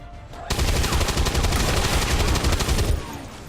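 A sustained burst of rapid automatic gunfire in the video game XCOM 2: Long War, loud and dense for about two and a half seconds, then cutting off abruptly.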